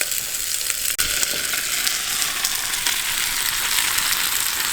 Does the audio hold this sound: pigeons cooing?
no